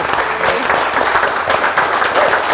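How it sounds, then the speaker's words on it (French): Loud, dense applause from a crowd at the CréaMasters 2025 final for the two winners, sustained throughout without a break. "Applaudissements s'il vous plaît pour nos 2 gagnantes."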